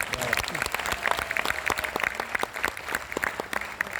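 An audience at a Hindi comedy and poetry stage show claps steadily, a dense spread of many hands applauding at moderate distance without a break.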